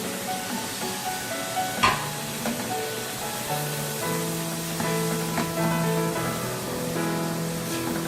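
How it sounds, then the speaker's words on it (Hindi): Spiced meat with coriander, crushed red chilli, salt, turmeric and black pepper sizzles on a hot tawa while being mixed, a steady close frying hiss with a few scraping clinks and a tonal music-like bed underneath. "अब इसको अच्छे से हम मिक्स करेंगे।"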